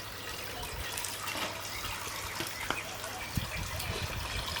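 Water trickles and is caught in a container outdoors at a Jamaican countryside cooking spot. It is a light, continuous dribble close by, with faint voices in the background.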